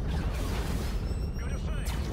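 Grenade blast in the Call of Duty: Infinite Warfare campaign, a loud, sustained booming rumble with battle noise, and a voice talking over it.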